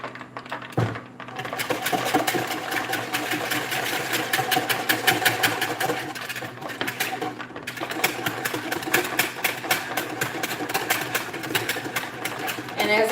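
Batter being whisked by hand in a bowl while making country-fried catfish, a steady rapid ticking and clattering that runs continuously and close up, with a brief pause early on.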